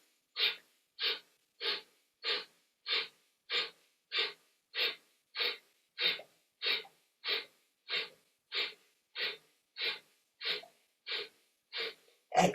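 Rhythmic, forceful breaths in a yoga breathing exercise: about twenty sharp, evenly spaced exhalations in a steady pulse, close and loud, with no talking.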